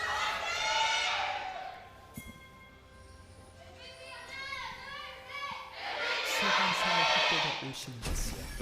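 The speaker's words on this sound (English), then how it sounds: "There's a little bit of a delay there on the MVP cheer." Fans at a League of Legends LCK Summer 2017 esports match cheer for team MVP in a large arena, the crowd noise swelling in two loud waves with high shouts and chanting.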